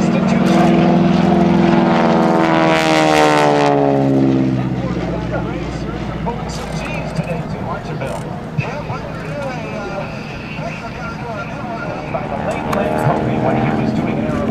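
An SNJ (AT-6 Harvard) advanced trainer propeller plane at the 2010 Blue Angels Homecoming airshow roars past close and loud with a dropping pitch, then fades to a distant drone while an announcer talks over a PA.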